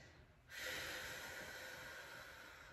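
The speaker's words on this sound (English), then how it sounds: "I'm breathing loudly so you can hear the cue." After a brief quiet moment, one long, loud breath rushes in close to the microphone and slowly tapers off.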